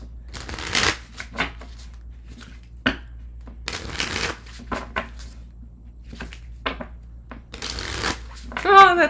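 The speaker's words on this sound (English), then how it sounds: "I'm going to shuffle and move on to Leo." Tarot cards are shuffled by hand during a reading, with repeated riffling and rustling bursts in an irregular rhythm, close to the mic, mixed with occasional speech.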